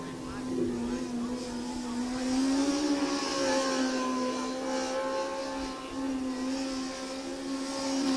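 A Formula SAE race car engine at high revs on a skid pan holds a steady, whining drone at constant pitch, loud and close, with a faint rise and fall in intensity.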